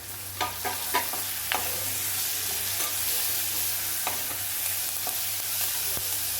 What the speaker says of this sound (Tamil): நல்லா அந்த கடலைப்பருப்பு வறுபடட்டும் மாசத்துக்கு நான் ஒரு மூணு பச்சை மிளகாவும் கொஞ்சம் கருவேப்பிலையும் போடுறேன்